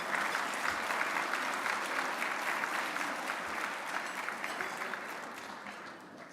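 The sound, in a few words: conference audience applause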